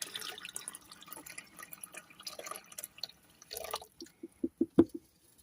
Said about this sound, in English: a little bit of hot water left in there.